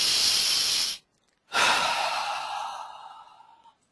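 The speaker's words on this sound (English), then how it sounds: "take a deep breath in through your nose and breathe out" A deep breath drawn in through the nose and then let out, heard close and loud as one long airy inhale, a brief pause, then a long hissing exhale that slowly fades away.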